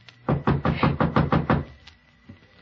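A firm knocking on a door, about seven quick, evenly spaced raps close by, then a faint final tap after a brief pause.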